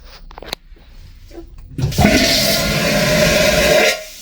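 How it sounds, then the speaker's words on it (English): A vacuum toilet in a Carnival Venezia cruise ship stateroom bathroom flushes with a sudden loud whoosh and roaring suction lasting about two seconds, preceded by a sharp click and a few quiet handling noises. "Toilet."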